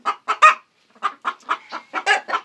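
Several dual-purpose breed chickens and a rooster cluck close by in a rapid, uneven series of short, loud calls with a brief pause early on and no talk.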